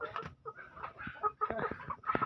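Ayam ketawa chickens cluck and chatter nearby in short, uneven bursts of soft calls.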